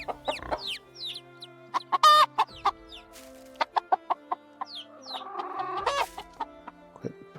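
Hens cluck in a busy farmyard, with sharp irregular clucks and squawks close by, a rooster in the flock and a brief crow-like call rising over the chatter.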